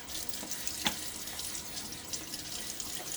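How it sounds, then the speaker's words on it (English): Running water splashes and trickles at a sink as a face is washed, with a brief sharper splash partway through and no talking. "Water on my face."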